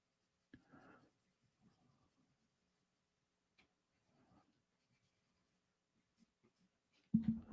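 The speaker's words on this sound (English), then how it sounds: "You can see the color pencils actually do kind of blend it well on with this frosted mylar." Colored pencils scratch over frosted mylar in soft, sparse strokes, faint and intermittent amid near silence, ending in a louder thump.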